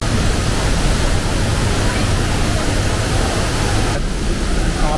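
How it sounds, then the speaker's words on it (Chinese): A roaring waterfall at Tianmen Mountain near Zhangjiajie, a loud, steady broadband rush that fills the whole clip without pause. "嗰个瀑布令人太激动啦！"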